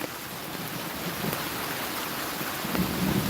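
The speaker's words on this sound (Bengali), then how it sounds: "এবার এমন বৃষ্টি নেমেছে যে চারিদিকে ভাসিয়ে নিয়ে যাবে" Heavy rain from a low-pressure system, a dense even roar of downpour with a low rumble underneath, steady and enveloping throughout.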